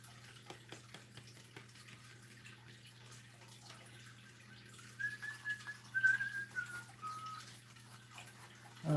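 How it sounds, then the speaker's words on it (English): Someone whistles a tune alone in a quiet room during a painting session, a faint, thin melody of a few wavering notes that grows a little louder toward the end. "Oh, I better not whistle."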